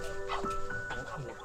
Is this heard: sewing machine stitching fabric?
no